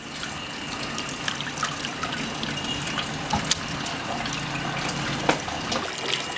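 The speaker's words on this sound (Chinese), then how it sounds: "这个盘洗洗干净" A plate is rinsed under a running kitchen tap, giving a steady close stream of water with small splashes and clinks throughout and no talking.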